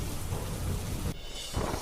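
Heavy rain pouring down in Valsad, where low-lying areas are flooding: a dense, continuous roar of rainfall with rumbling low tones, dipping briefly before surging again.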